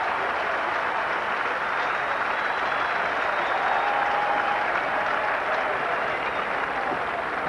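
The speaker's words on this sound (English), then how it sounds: "They'll cheer everything." A cricket crowd at Edgbaston during an England versus West Indies Test match applauds and cheers in a dense, steady wash of clapping that holds even throughout, loud and unbroken.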